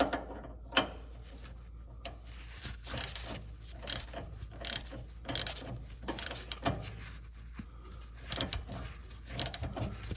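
A wrench tightens the 17 mm top nut on a sway bar link of a third-generation Toyota 4Runner, producing a run of close, irregular mechanical clicks and ratcheting ticks over about ten seconds with no speech.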